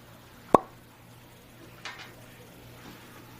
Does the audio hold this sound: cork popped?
yes